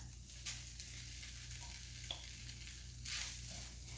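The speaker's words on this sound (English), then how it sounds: "And then I mix it together." Cooked wild rice being stirred into a stuffed pepper filling, a soft, steady scraping and mixing close by with faint sizzle-like texture and a couple of brief louder scrapes, no talking.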